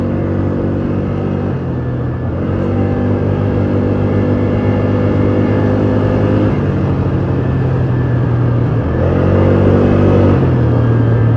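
A Polaris Magnum 330 ATV runs flat out in two-wheel drive, its engine a loud, close, sustained drone held at high revs. The pitch shifts and stutters as if bouncing off the rev limiter.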